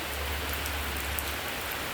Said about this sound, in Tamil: அதான் மழை நல்லாயிருக்கு, குளிர்ச்சியாக இருக்குது.